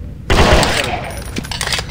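Rapid gunfire in Resident Evil bursts in suddenly, a loud dense volley of shots with scattered sharper reports trailing off.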